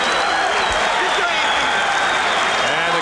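A boxing crowd at a 1990 WBA welterweight title bout cheers and applauds in a dense, loud, continuous roar that fills the whole moment, with a commentator's voice speaking over it.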